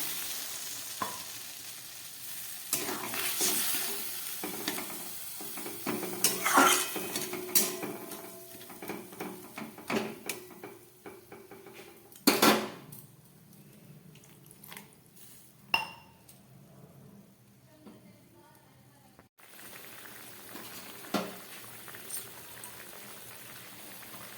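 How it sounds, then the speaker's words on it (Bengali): A pot of bean and poppy seed curry broth simmering with a soft bubbling boil, broken by spoon stirs and the occasional clink of metal on the pot. "ঝোলটা ফুটে উঠেছে"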